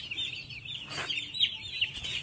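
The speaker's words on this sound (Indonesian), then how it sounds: "Jafar, itu ayam yang belum divaksin, dan yang ini ayam yang sudah divaksin." Broiler chickens in a poultry house chirp and cluck in a busy, overlapping chorus, fairly faint and steady with no voices.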